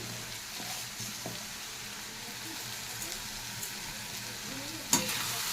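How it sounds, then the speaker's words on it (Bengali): Snake gourd frying in a pan with salt, turmeric and a little sugar, giving a soft, steady sizzle with occasional scraping stirs and a sharp clatter near the end; no one speaks. "ভালো করে নাড়াচাড়া দিয়ে নিচ্ছি।"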